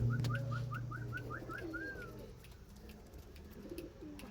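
Pigeons coo softly nearby, a low repeated warbling call, with a rapid series of high chirps early on over faint background noise.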